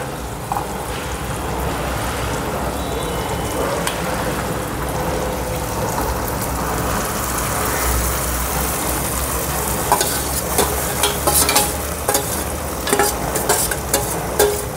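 Ragda, a cooked white-pea curry, goes into a pan of soft-cooked tomato and turmeric and is stirred, giving a steady wet sizzle with scraping spoon strokes that grow busier toward the end, close and moderately loud with no talk.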